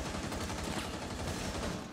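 Rapid, dense automatic gunfire in the video game Rainbow Six Siege, a continuous rattling burst of fast shots that holds loud and steady throughout without any pause.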